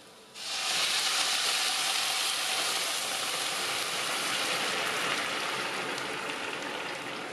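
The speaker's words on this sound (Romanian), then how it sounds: "Apoi adăugăm supa fierbinte." Hot broth poured into a pan of mushroom risotto rice, a sudden loud continuous sizzling hiss that starts at once and stays steady without a break, with no talk.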